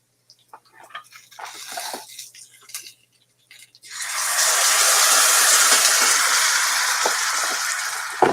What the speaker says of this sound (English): I'm going to take my zoodles and add a little bit of filtered water to the pan